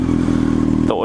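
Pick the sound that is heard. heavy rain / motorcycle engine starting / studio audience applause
motorcycle engine starting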